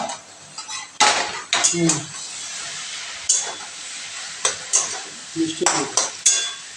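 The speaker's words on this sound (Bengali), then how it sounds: "নাড়াচাড়া করে দিই" A spoon scrapes and clatters against a pan while stirring bottle gourd curry with bori, in a series of distinct strokes over a faint sizzle of frying.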